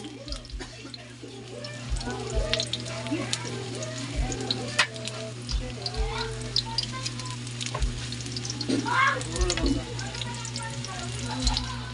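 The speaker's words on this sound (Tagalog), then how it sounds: "Prituhin na nating lahat." Fish and eggplant fry in a pan with a steady, crackling sizzle and a few sharp pops, running beneath a person talking throughout.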